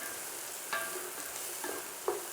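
Sliced, overripe yellow capsicum stir-fries in a pan for chicken noodles, giving a steady soft sizzle with a few sharp scrapes and clinks of the spatula against the pan.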